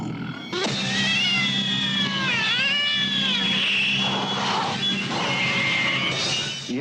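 A cat yowls and meows in a long, loud, wavering caterwaul from a horror film scene, close and continuous with shifting pitch, ending in a sharper cry.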